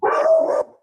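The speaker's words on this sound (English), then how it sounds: "Jace, sorry, that's my dog" A dog gives one loud, close, drawn-out bark lasting under a second, then falls silent.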